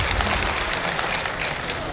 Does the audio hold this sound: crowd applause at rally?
yes